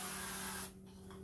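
A steady hiss of olive oil sprays onto meat for a tailgate cookout, then cuts off abruptly and leaves quiet room tone.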